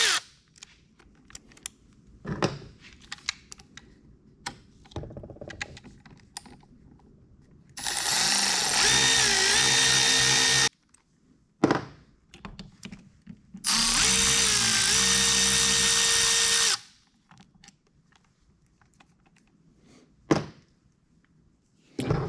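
A power tool whirs in two sustained bursts of about three seconds each while removing perimeter fasteners from a SkyTrax gearbox on a Yamaha APEX engine. Scattered clicks and knocks of tool handling fall between and around the bursts.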